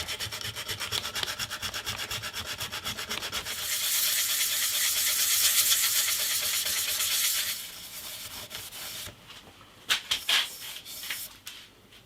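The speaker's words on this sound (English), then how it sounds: "And the final finishing is with just sandpaper." Sandpaper rubbing back and forth over a wooden electric guitar body, a steady close scratchy hiss that grows louder in the middle, then gives way to lighter strokes and a few knocks.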